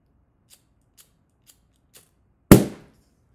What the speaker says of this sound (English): as you can see, the balloon has ruptured, and there's some burning rubber in the air